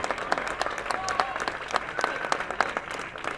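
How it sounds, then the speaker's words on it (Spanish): An audience applauds the cast at the presentation of a telenovela, a dense burst of clapping that stays loud and steady, with crowd noise and a voice mixed in underneath. "Un aplauso para todo este maravilloso elenco"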